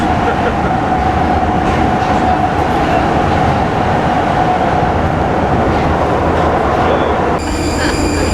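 Inside a Prague metro train carriage while riding: loud, continuous rumble of wheels and rails with a steady whine, clattering under murmured voices, ending with a brief electronic chime tone.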